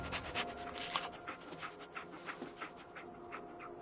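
In a PS4 video game, a dog pants rapidly and sniffs while tracking a scent, the quick breathy bursts close and fairly loud, carrying on steadily from start to finish.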